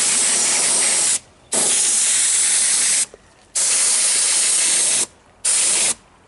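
A spray gun applies chunky tooling gel coat to a quarter-scale truck, sputtering as it goes. Loud, close hissing comes in four long bursts, each broken by a brief silent pause.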